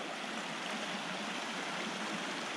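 A small mountain river rushes in a steady broadband wash of flowing water, close and continuous with no voices.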